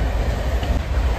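A passenger train runs at about 110 km/h on the line from Kolkata toward Balasore, giving a loud, steady rolling rumble with faint rail clatter throughout, with no voices.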